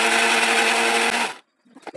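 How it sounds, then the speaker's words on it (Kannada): A mixer grinder whirring loudly as it grinds fried onion, tomato and coconut, running steadily for just over a second before cutting off, followed by a few faint clinks. "ಆಗ್ಲೇ ಹುರಿದಂಥ ಉಳ್ಳಾಗಡ್ಡಿ ಟಮಾಟಿನ ಮತ್ತು ಕೊಬ್ಬರಿನ ಮಿಕ್ಸಿ ಹಾಕತ್ತಾರ ನೋಡ್ರಿ"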